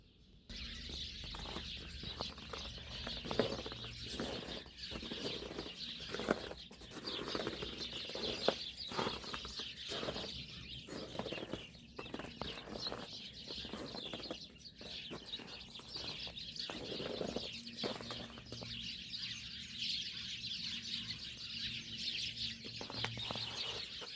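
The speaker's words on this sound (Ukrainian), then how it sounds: "Давайте послухаємо горобці. Ви чуєте, як вони стараються?" Sparrows chirp and twitter continuously at a distance, a busy, faint chatter with occasional wing flutters.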